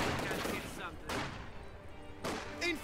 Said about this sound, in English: Infantry fire incoming.